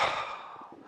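Deep breath during qigong meditation, a single long, soft exhalation that starts fuller and fades gradually toward the end, airy and close, with no talking over it.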